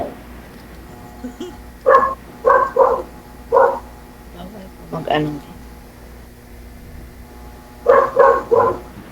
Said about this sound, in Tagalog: Ingay naman ang aso yan.